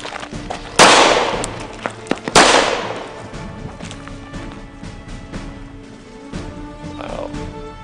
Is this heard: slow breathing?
no